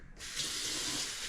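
Tap water gushes steadily as soap is rinsed out of muskrat fur, a close, continuous hiss of running water with no voices.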